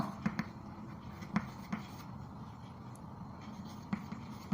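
A math solution is written on a board, with a few short, faint scratchy strokes and taps spaced out across an otherwise quiet room.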